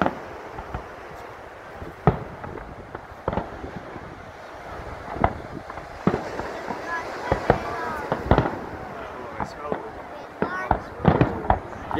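Fireworks over Brighton jetty in 2019, heard from a distance as scattered pops and crackling bursts, some sharper and louder than others, over steady wind and crowd noise while people chat nearby.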